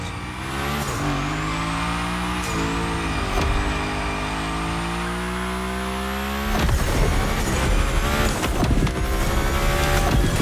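Car sliding and drifting through a Gymkhana course in The Crew Motorfest, engine revving steadily with rising pitch while tires squeal continuously, growing louder and rougher near the end.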